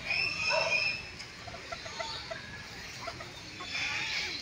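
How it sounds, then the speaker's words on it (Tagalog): Chickens at a zoo in Pililla, Rizal cluck faintly in a soft, scattered series against a hissy outdoor background. "tapos meron silang manok"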